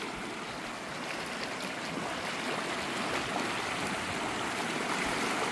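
Water rushing along in a stream, a steady broadband gurgling wash that stays even and moderately loud throughout, with no voices over it.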